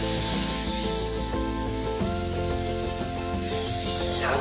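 Short hissing bursts of aerosol vegetable oil sprayed onto baking sheets, with a steady hum behind, the loudest burst coming near the end.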